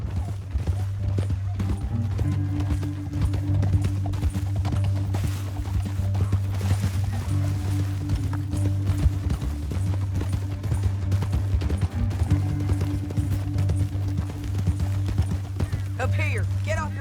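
Horse hooves clip-clopping in the Red Dead Redemption 2 video game, a continuous rhythmic trot over a low droning game soundtrack, steady and moderately loud for the whole stretch.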